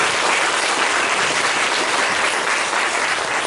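A congregation in church claps in congratulation for a couple receiving a blessing, a loud, dense, continuous wash of many hands close by, steady from start to finish with no talking.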